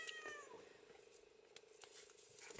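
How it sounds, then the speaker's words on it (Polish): A house cat gives a short, faint meow at the start, then a soft purring rumble continues quietly in a calm room. "tylko wypuszczę mojego rozśpiewanego kotka"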